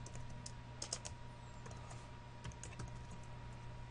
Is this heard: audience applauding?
no